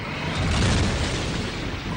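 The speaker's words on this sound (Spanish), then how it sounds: "Algunas estrellas al morir producen una explosión supernova." Supernova explosion sound effect for a space documentary, a sustained broad roaring rumble that holds steady at full loudness throughout without a sharp attack.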